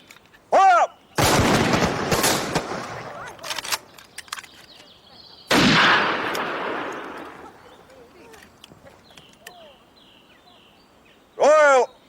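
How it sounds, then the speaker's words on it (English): A regiment fires a rifle volley at a military parade, two loud, sharp blasts several seconds apart, each trailing off in a long rumbling echo, with shouted commands and birdsong between them. "One round of volley fire."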